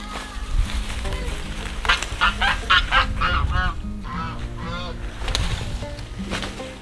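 A flock of geese honks loudly and repeatedly on a farm, mixed with chickens, in a noisy overlapping chorus of nasal calls close by while they wait for lettuce treats.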